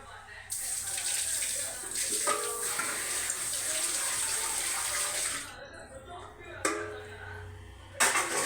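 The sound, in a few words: water poured into cooking pot of vegetables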